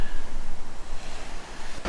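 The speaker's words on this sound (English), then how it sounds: "it's a little bit windy today" Steady wind rushing and buffeting over a microphone outdoors, a continuous broadband roar with gusty swells throughout.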